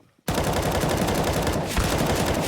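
Rapid automatic rifle fire from Counter-Strike on the Inferno map bursts in after a brief silence and hammers on loud and close in a continuous stream.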